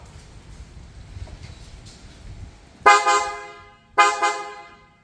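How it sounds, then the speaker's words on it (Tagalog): Two loud, brassy aftermarket car horn blasts from a new Toyota Land Cruiser Prado sound one after another, each held for about a second, with a low engine hum underneath. "We'll do a sound check on the horn right now."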